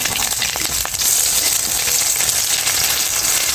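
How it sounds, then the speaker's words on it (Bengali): Eggs frying in a pan for a Bangladeshi home breakfast, giving a steady close-up sizzle and crackle that runs without a break and without voices. "এখন আমি কয়েকটা ডিম ভেজে নিব"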